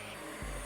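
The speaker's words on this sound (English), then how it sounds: "So we're gonna vacuum that out." A vacuum cleaner pulls lint from a clothes dryer's lint filter housing, giving a brief, steady suction whine whose pitch drops as the nozzle shifts, with no talk.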